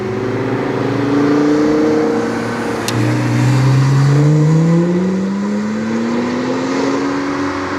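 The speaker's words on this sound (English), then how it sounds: "Jeez, those Porsches move." Porsche sports cars accelerating hard past on the Curborough sprint course, engines rising in pitch as they rev through the gears, loud and close with a sustained, sweeping drone.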